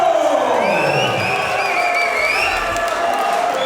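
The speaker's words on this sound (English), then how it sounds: "the crowd roars with approval" A crowd at an MMA fight night roars continuously for a Brazilian fighter, with whoops and high whistles riding over a dense, loud wall of cheering.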